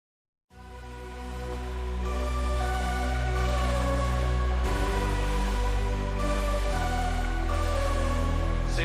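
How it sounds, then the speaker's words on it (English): Monsters awakening in a fantasy chamber: a loud, sustained droning rumble with layered tonal swells and shifting low growls, building after a brief silence and holding steady throughout. "This is the sound of monsters awakening in the Chamber of Thought."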